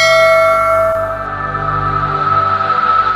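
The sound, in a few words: notification bell sound effect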